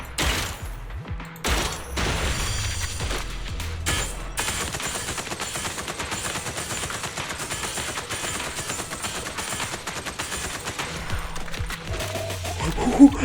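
Sustained automatic gunfire from the Zenless Zone Zero video game, dense rapid bursts that run nearly unbroken for over ten seconds, loud and close, with a few short pauses near the start and a heavy shot near the end.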